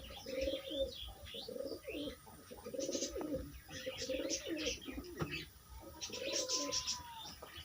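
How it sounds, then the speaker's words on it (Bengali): A Madras pigeon in a loft coos in a run of repeated throaty, rolling phrases, close and fairly loud. Light chirps and faint background voices sit behind it. "মাদ্রাস পায়রা দেখুন।"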